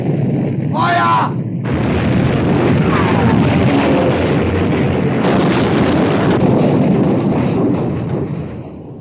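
Heavy naval gunfire and explosions from a battleship battle in a 1960 war film about sinking the Bismarck, a sustained loud roar of blasts and rumble with a shouted voice near the start.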